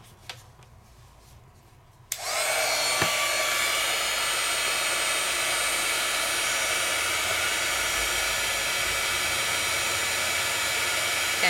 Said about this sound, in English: Bring over my heat tool.